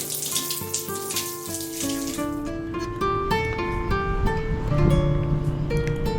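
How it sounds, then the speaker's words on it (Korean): Water from a broken hotel shower nozzle runs and splashes with a steady hiss, leaking sideways, fading partway through as tonal music plays along underneath. "물이 옆으로 새어나오네요."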